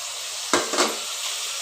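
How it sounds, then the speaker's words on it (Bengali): Eggplant pieces dropped into a pan of frying spices, a sudden loud hiss followed by a second burst and a steady sizzle underneath. "বেগুনটা দিয়ে ভালো করে বেগুনটাকে কষিয়ে নিব"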